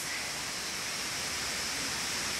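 Waterfall at Middle Falls roaring steadily as a dense, unbroken rush of falling water, close and constant throughout with no voices.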